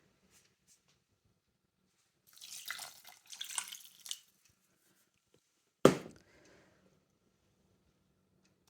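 About two seconds of water being poured into a pan during batch cooking, a soft splashing trickle that stops, followed later by a single sharp thunk, otherwise quiet.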